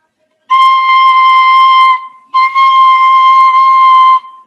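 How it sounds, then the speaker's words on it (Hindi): A bamboo bansuri flute plays two long, loud, steady notes, separated by a brief breath pause, clear and alone with no background sound. "ये बांसुरी है"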